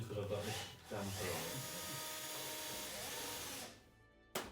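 A power drill fitted with a damper runs steadily for several seconds on an aircraft fuel tank during a First World War plane rebuild, a continuous whirring whine that cuts off, followed by a brief final burst.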